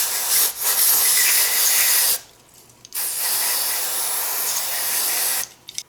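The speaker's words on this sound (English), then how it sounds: "now what I do is I just rinse it off with some carb cleaner" Carb cleaner sprays in long hissing bursts onto a snowblower carburetor, two sustained blasts split by a short pause, loud and close with no talking.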